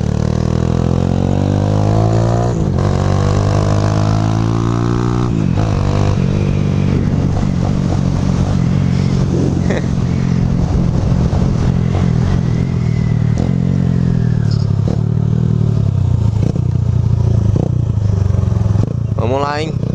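Honda Titan 150 motorcycle revving hard and shifting up and down without the clutch, a loud continuous engine drone rising and falling through gear changes with some clatter, recorded close throughout.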